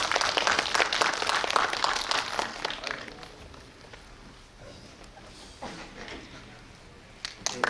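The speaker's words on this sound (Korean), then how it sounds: "입장하실 때 큰 박수로 환영해 주시면 감사하겠습니다" Audience applause in a Korean cinema hall (Lotte Cinema World Tower) at a film guest-visit event, loud dense clapping at first that thins and fades, then scattered claps return near the end.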